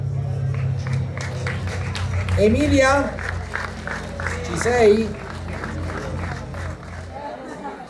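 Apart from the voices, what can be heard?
crowd applause for a rally driver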